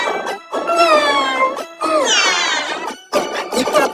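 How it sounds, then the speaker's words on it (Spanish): A cat meows three times in a row, loud and close, with drawn-out, rising and falling cries separated by short pauses. "el gatito dice"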